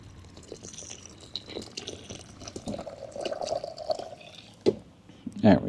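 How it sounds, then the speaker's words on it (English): Very hot water splashes and trickles into a container with a rising gurgle, ending in a couple of louder splashes. "We're just gonna pour this in."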